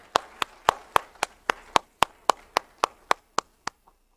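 A church congregation at a New Year Sunday worship service claps together in unison: about fourteen sharp, evenly spaced claps in a steady rhythm, each one crisp and close, before the clapping stops and falls quiet.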